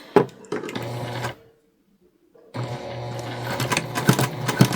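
A sewing machine runs in steady bursts of stitching fabric with a 1/4 inch seam, pausing briefly in silence before starting up again with a rapid mechanical whir and clicks as the presser foot grabs the material.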